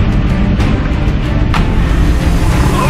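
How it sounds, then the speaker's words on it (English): A Mercedes G-Wagon engine hums steadily at a low, even pitch, loud and close, with a faint whoosh of passing air. "Listen to that purr of that engine."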